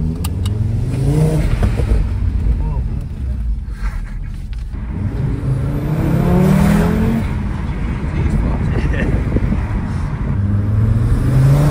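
Audi TT RS revving and accelerating, its engine note rising and falling in several sweeping pulls, loud and close, with a voice briefly heard between revs.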